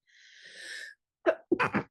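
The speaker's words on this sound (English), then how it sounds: "I think I'm going to sneeze" A woman sneezes close to the microphone: a drawn-out breathy intake, a short pause, then a sharp sneeze burst and a second quick sneeze.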